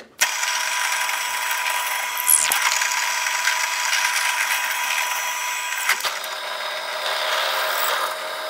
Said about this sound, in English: Now we'll drill a 9/64 inch hole into the base and make the drill stop just short of the bottom of the ebony.